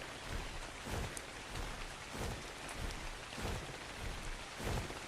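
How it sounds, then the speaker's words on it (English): A rainstorm in ARK Ragnarok: dense, steady rain hiss with soft low swells every second or so, quiet and even throughout. "looking out over the water and seeing a nice cooling storm brewing out in the ocean"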